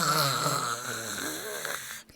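A sleeping woman snores in a steady, drawn-out breath with a rattling, buzzy tone, close and fairly loud, ending abruptly after about two seconds.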